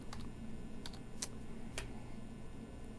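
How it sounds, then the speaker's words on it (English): Computer keyboard typing while entering a search name, heard as a few sparse, soft key clicks over a steady background hum. "We're going to type Bluestone"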